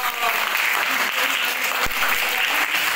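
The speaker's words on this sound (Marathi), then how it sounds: "टाळ्या वाजवा एकदा।" Schoolchildren in a classroom clap together in a steady burst of applause that fills the whole stretch, with a faint voice or two mixed in.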